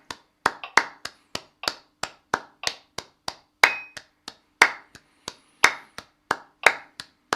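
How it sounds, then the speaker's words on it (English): Hands clapping in a steady triplet rhythm during a music warm-up on F major triads, with sharp, close claps repeating evenly throughout and no talking. "Now clap as well."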